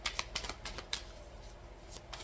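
Quick riffling bursts of tarot cards being shuffled, a rapid run of papery flutters close by with short pauses between.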